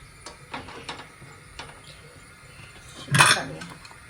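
A single clanking metal knock as a pot is set down into a pressure cooker, loud and brief near the end, after quieter kitchen rustling and small clinks.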